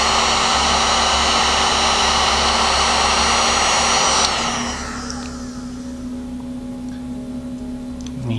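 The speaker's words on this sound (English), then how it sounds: "I am going to open the heat gun and it is going to shrink the cover right here on the top" A heat gun blows hot air to shrink a heat-shrink cover on a drone frame, a loud steady whooshing roar that drops to a lower, quieter hum partway through.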